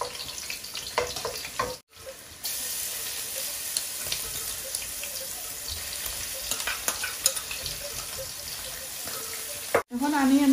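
Ginger and garlic fry in hot oil in a pan, giving a loud, continuous close sizzle with occasional stirring clatter and two brief dropouts.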